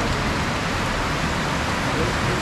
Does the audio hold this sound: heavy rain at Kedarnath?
yes